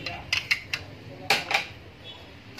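Melamine plates set down on a surface, a few light clattering knocks spread over a couple of seconds, close and fairly quiet.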